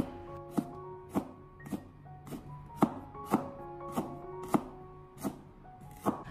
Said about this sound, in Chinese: 再准备少许的老姜，给它清洗干净以后，直接的改刀切成薄片。